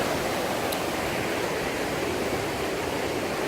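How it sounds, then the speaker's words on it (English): Blakiston Falls waterfall roars as a steady, dense wash of broadband noise, constant and unbroken throughout with no voices. "there's the main head of the waterfall over there"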